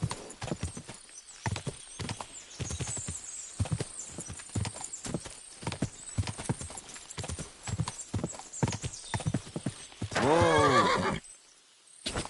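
Horse hooves clip-clop at a steady gallop in Kingdom Come Deliverance 2, the rhythmic footfalls close and continuous before a loud, drawn-out whinny near the end, then the sound cuts off.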